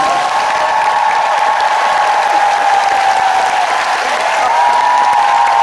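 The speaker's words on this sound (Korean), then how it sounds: "다시 한번 큰 박수 부탁드리겠습니다." Concert audience at a gala concert applauding the music director and orchestra, a loud, dense and continuous roar of clapping from a large crowd with faint cheering mixed in.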